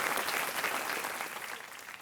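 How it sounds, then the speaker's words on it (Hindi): Studio audience on a TV quiz show applauds a contestant's welcome, a dense even clapping from many people that fades gradually toward the end. "तालियों के साथ इनका अभिनंदन।"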